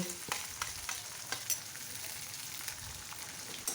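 Finely chopped onions with chilli pieces fry in hot oil in a pan, giving a steady soft sizzle with occasional clicks of stirring, quiet and without talk.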